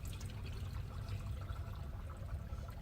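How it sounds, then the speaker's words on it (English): Liquid pours steadily from a jug into a Silverado engine during a heads and cam rebuild, a continuous close gurgling wash with no talk over it. "can pour the rest of this jug in here"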